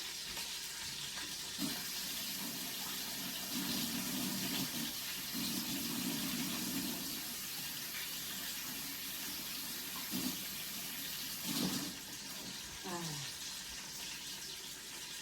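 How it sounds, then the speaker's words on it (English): Tap water runs steadily as hands are rinsed clean of garlic at a kitchen sink, a faint continuous splash with brief louder bursts as the hands move through the stream, no voices. "I am going to rinse off my hands. Well, wash off my hands"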